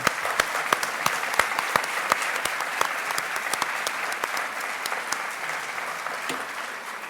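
An audience applauds at a morning conference session marking International Women's Day, steady dense clapping with a few sharper near claps, holding for several seconds and easing slightly toward the end.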